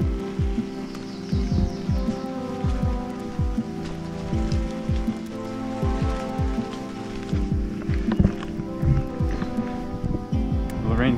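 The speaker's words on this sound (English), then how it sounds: "And now it's raining huge drops out here in the woods." Heavy rain with large drops falling in woods, a steady patter of dense, irregular impacts on leaves and surfaces close by, continuous and fairly loud throughout.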